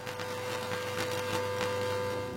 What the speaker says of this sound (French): De la friture, du bruit blanc, c'est le son qui sort du vieil haut-parleur.